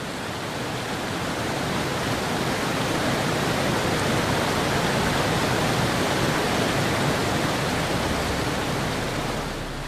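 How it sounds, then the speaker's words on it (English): Steady, dense roar of swollen mountain cascades and torrents plunging down slopes in the wilds of India, a loud unbroken wash of rushing water filling the whole stretch without pause. "As they plunge down the mountain slopes, the cascades grow ever larger."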